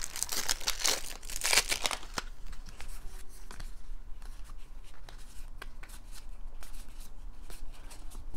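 Plastic wrap and card packaging from a board game crinkle and rustle up close, with a burst of loud tearing and crumpling at first, then quieter intermittent crackles and ticks of cards being handled.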